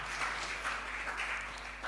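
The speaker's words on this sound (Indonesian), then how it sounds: "Tepuk tangan yang meriah bagi Tuhan kita" A church congregation applauds during an Indonesian sermon, with dense, fairly faint clapping throughout and a low steady hum underneath.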